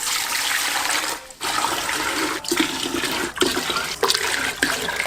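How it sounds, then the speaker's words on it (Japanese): Water gushes and splashes steadily into a cooking pot, with a few brief pauses in the flow. "鍋に水を6回、"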